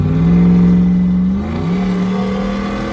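Car in race mode with an aftermarket throttle controller accelerating hard, a loud close engine rising in pitch, dipping briefly at a shift, then climbing again.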